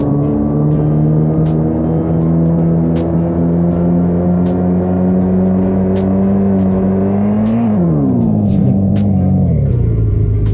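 Engine hum of a car driven in a Unity game rises steadily, then drops in pitch near the end as it slows, a continuous synthetic drone with faint clicks on top.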